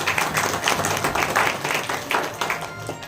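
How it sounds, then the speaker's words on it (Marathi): An audience at a Shrimad Bhagavat katha discourse in a temple gives a burst of hand-clapping applause, steady and fairly loud for a few seconds with scattered claps, and no speech over it. "टाळ्या."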